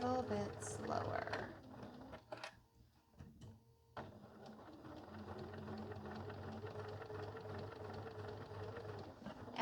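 Sewing machine stitching quilt binding, a steady mechanical whirring run after a brief stop-and-start with a few clicks, close by, with a voice speaking over the opening moments.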